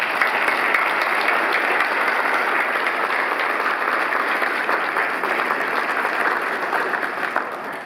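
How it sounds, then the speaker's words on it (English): Sustained audience applause for veterans on stage at a Legion of Honor ceremony, steady and fairly loud clapping from a large crowd throughout, with no talk over it. "please join me and give them a round of applause"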